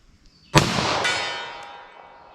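A single loud, sharp report from a pistol firing Federal Train + Protect .45 ACP at 75 yards, followed by a long fading ring, with a faint second impact a half-second later; no talking.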